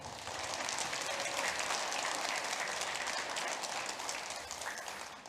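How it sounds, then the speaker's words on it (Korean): A church congregation at a Sunday worship service claps steadily together, a soft, even, continuous patter of many hands heard from a distance with no voices over it. "다시 한번 박수 한번 해주세요"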